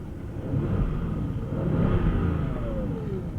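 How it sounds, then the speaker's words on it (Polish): A parked, cold Audi S8 with the 4.0 TFSI V8 is revved gently in Park, its deep engine rising in a couple of soft swells of rumbling throttle before easing back. "Sobie przygazujemy"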